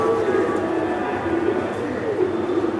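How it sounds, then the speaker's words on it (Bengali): Low pigeon cooing, a Bangladeshi farm bird being held up and shown, rolls on steadily and close over a constant background hum. "আমি একটা কবুতর ধরে দেখাই দিই"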